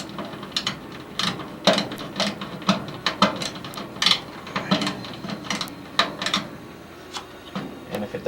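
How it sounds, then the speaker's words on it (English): A small hand ratchet tightens a bolt on a furnace, making a steady run of sharp, close clicks in quick bursts, loud and alone with no talking. "take my little ratchet here and simply tighten her up"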